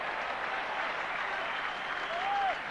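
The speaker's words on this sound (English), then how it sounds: "Great crowd inside Odsal, enjoying this." A large rugby league crowd at Odsal stadium, Bradford, claps in a dense, continuous wash of applause that stays steady and fairly loud throughout, with no talk standing out above it.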